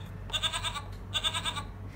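A goat bleats twice from an animal sound board book, two quavering, vibrato-laden cries close up with a short pause between them over a faint electronic hum.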